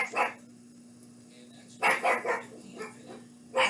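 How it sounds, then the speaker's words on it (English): A dog barks several times nearby in sharp bursts, first one, then a quick cluster of barks, then another, heard over a steady background hum with a person talking. "I don't know what she's barking at."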